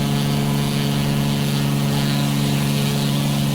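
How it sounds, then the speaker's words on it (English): A loud, constant droning engine hum inside a small plane cockpit in Microsoft Flight Simulator, steady and unbroken, with no separate pass of another aircraft standing out and no speech. "I just had a plane fly right over me"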